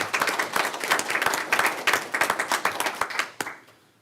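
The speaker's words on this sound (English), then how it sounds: "I clap too" Audience applause at a school board meeting, a dense burst of many hands clapping close and loud, then fading out in the last half second.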